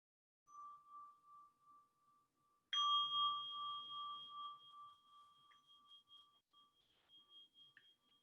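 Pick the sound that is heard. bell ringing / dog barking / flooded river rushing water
bell ringing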